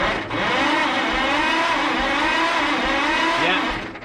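An old Mack B30 bus engine whirs over under the starter, a loud continuous mechanical drone with a wavering pitch that holds for several seconds before dropping away, with no talking.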